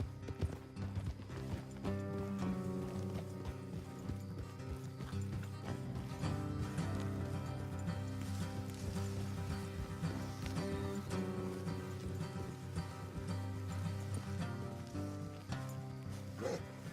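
Horse hooves clip-clop in the Red Dead Redemption 2 video game, a steady rhythmic trot set quietly beneath a continuous musical score.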